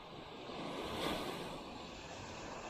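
Rough sea surf rolls off Apuao Island, a steady, wide wash of breaking water mixed with wind noise, swelling briefly and then easing, with no voices.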